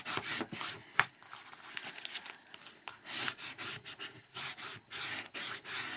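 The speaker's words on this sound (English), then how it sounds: "and then we're going to burnish it all down" Pieces for a flat mailbox being burnished down by hand, a soft close rasping rub that comes in repeated uneven strokes, quiet, with no talking.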